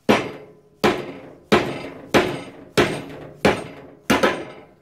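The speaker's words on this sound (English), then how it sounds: "pull out the stanchion as far as it will go, and then use it a bit like a slide hammer" Fork stanchion from a Yamaha TDR 250 front fork being yanked out like a slide hammer, seven sharp metallic knocks at a steady rhythm, each ringing briefly before the next, close and loud with no talk.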